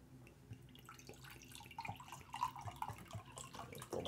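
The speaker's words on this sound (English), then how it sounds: "Pour myself some water here." Water poured into a glass, a faint uneven trickle and splash gurgling on for a few seconds, rising slightly toward the end, quiet and close.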